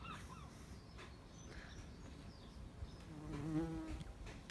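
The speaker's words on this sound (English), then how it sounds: "Bumblebee. Bumblebee." A bumblebee buzzes faintly at first, then drones louder and steadier as it passes close for a moment before fading off.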